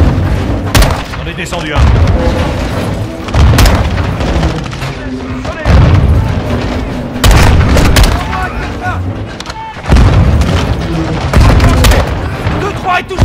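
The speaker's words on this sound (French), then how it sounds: "Il lance des grenades!" Grenade explosions and gunfire in the Modern Warfare 2 campaign, heavy repeated booms every couple of seconds with rattling shots between, loud and close, while soldiers shout over the battle.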